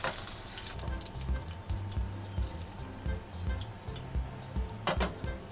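Blue mackerel pan-frying in a wok over medium-high heat, a steady crackling sizzle with small spitting pops throughout, close and moderately quiet, no voices.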